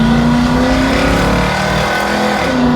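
A car engine revs hard in first gear with a slap-shift shifter, a loud continuous roar that climbs in pitch, dips briefly and rises again, close and with no speech.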